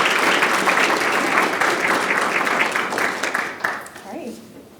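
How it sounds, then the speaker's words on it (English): An audience applauds at a university business case competition, steady dense clapping carrying on for several seconds before thinning out, with voices coming in near the end. "Please join me in giving a round of applause to Kristen Collett-Schmitt"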